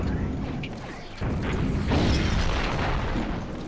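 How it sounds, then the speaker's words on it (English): Heavy explosions from mass bombs in the space combat game Space Pirates and Zombies, a dense continuous roar of booms and crashes that swells after the first second and stays loud throughout. "Watch those mass bombs."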